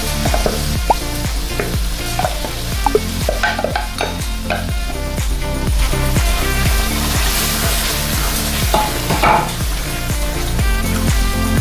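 Spinach frying in a pan for aloo palak, a loud continuous sizzle with repeated scraping and stirring strokes of a spoon against the pan, close and steady throughout.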